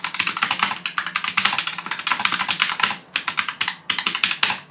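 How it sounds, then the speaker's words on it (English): Fast, steady typing on a mechanical keyboard with red-style linear switches and very thin keycaps, close and fairly loud, a run of crisp clacks with two short pauses. "The keyboard is a little bit on the loud side to type on though."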